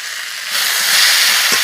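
Potatoes frying in oil in a kadai, a steady sizzling hiss that swells after a quiet start and continues evenly at close range.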